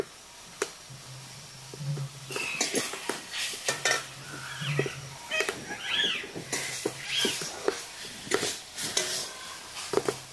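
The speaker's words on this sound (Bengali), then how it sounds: "দুই মিনিট ভালো করে নাড়াচাড়া করে দিয়ে নিব।" A raw papaya dish with salt is stirred in a pan, giving a run of uneven scraping and clinking strokes of a spoon against the pan with light sizzle, close and alone without talk.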